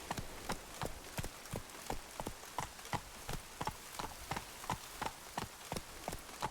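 Hooves of Roach, the horse in The Witcher 3, clip-clop in a steady trotting rhythm, each strike crisp and close, with faint background ambience and no talk.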